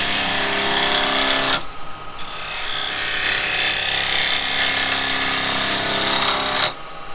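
Traditional woodturning tool making smaller cuts on a spinning wooden piece on a lathe, loud rasping cut noise that starts, breaks off briefly into the quieter running whir, then resumes strongly and stops near the end.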